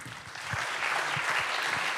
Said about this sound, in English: I would like to give our speakers a big round of applause.